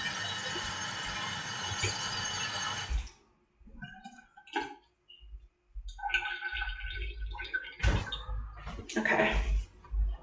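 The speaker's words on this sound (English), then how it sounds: "I'm just going to use the sink. Give me 1 second. I'm just going to wet my hair." Water runs steadily from a bathroom sink tap, then stops, followed by splashing and dripping as hands wet hair under the flow, close and fairly loud.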